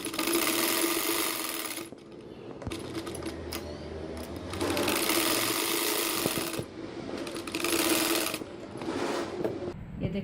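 Sewing machine stitching bias-cut fabric strips into piping for a boat-neck blouse, running in loud steady bursts with short pauses between runs.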